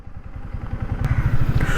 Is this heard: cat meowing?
no